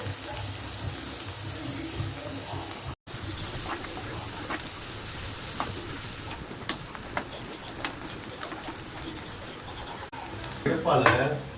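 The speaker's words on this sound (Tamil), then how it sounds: "வெங்காயமும் இஞ்சி பூண்டு சேர்த்தே வதக்கிடலாம்." Onion, ginger and garlic sauté in a pan with a constant sizzle and occasional stirring clinks, broken by a brief dropout, with a running-water rush near the end.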